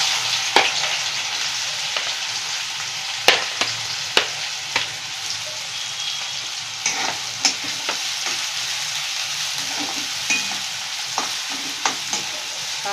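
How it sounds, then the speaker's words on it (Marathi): Chopped onions frying in hot oil for a spicy Indian chicken gravy, a steady loud sizzle with sharp intermittent clinks and scrapes of a spoon stirring the pan. "आता तेल तापलेलं आहे। आपण आता कांदा टाकूया।"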